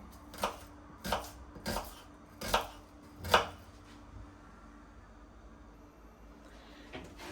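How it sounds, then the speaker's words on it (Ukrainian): A knife chops an onion on a board with five sharp, evenly spaced strikes close by, then the chopping stops and it falls quiet. "І дрібненько нарізаємо цибулю."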